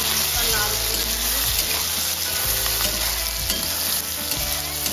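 Onions with bay leaves and whole spices fry in a pan with a loud, steady sizzle, broken by occasional scraping as they are stirred.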